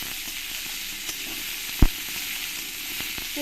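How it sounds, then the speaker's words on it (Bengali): Chopped onions frying in a pan for a Bengali-style egg and soybean masala, a steady close sizzle throughout with one sharp utensil knock midway and no talking. "পেঁয়াজগুলো দিয়ে একটু ভালো করে আমি পেঁয়াজগুলোকে ভেজে নেবো লাল লাল করে"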